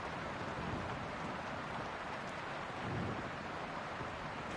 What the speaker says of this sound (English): And they said there'd be no rain.